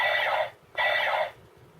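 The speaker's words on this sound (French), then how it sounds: "des bruits de tir" Two short bursts of tinny, electronic gunfire from a Zyuden Sentai Kyoryuger DX Plezu-Oh toy, each about half a second, separated by a brief pause.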